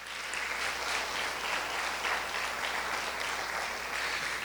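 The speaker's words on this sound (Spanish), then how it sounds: "Dele un aplauso al Señor, aleluya." Sustained applause from a crowd at a church worship service, a dense, even clatter of many hands clapping throughout without pause.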